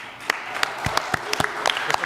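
Scattered applause from an audience at a political event with Donald Trump in California, a thin patter of separate claps spread over roughly two seconds, fairly close, with a faint murmur underneath.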